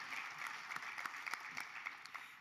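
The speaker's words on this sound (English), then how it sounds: "It's okay to clap for financial stuff" Faint applause from an audience at a county state-of-the-county address, scattered claps rising and falling for a couple of seconds.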